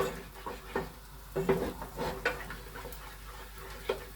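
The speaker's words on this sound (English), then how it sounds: "we're just going to add a little bit more milk. Give it another stir" A spoon stirs cheese sauce for cauliflower cheese after a little more milk is added, giving soft, irregular scraping and sloshing strokes in a quiet kitchen.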